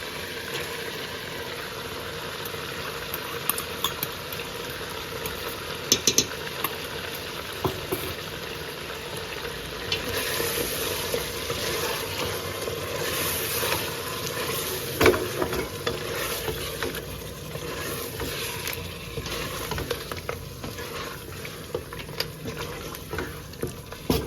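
Yogurt spoons into frying mutton masala and gets stirred in, a steady bubbling sizzle with repeated scraping and clinking of the spoon against the pot, close and continuous without speech.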